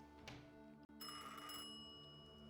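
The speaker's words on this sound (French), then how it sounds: "Oh, téléphone qui sonne." Telephone ringing in the video game The Thaumaturge, a bright electronic ring that sounds in two bursts separated by a brief gap, fairly faint and without talk.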